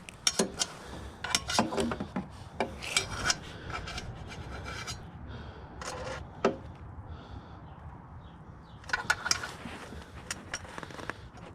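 Ratchet work on the bolts during an Audi A3 downpipe install, in clusters of dry rasping clicks that come in short bursts with quieter gaps, close up, with no talking.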